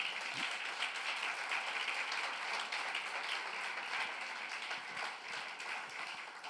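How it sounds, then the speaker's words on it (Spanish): Church congregation applauding during a worship service, sustained dense clapping from a large crowd, steady and moderately distant throughout. "denle un aplauso al Señor"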